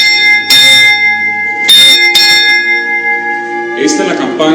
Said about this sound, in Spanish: Vamos a sonar esta campana.